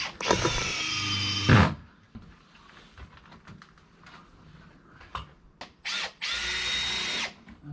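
A power drill drives screws into insulated cabin panels in bursts, a loud whirring run at the start and another near the end, with quieter clicks and handling noises between.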